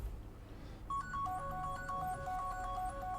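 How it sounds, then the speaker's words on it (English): A phone rings with a repeating electronic ringtone melody during a Star Citizen 3.8 VR livestream, starting after about a second and continuing steadily at moderate level over a low background hum. "And I hear the phone ringing, but I ain't answering it."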